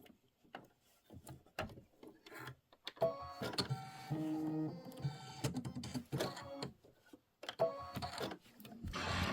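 An embroidery machine stitches a leaves-and-acorns design on linen for a pillow, giving close, uneven mechanical clicking and whirring with irregular rattles and short pauses, and no voices.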